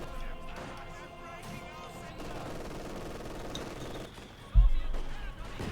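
Machine gun fire from a German MG position in the strategy game Company of Heroes 2 crackles steadily in dense bursts beneath ongoing commentary, with a sharp louder impact near the end.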